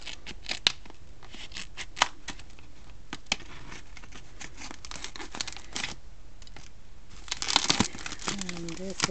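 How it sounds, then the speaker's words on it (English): Scissors snip repeatedly amid crinkling and rustling of packaging as a parcel is opened, close up, with a few sharp clicks and a brief voice at the end. "Let me get my scissors again."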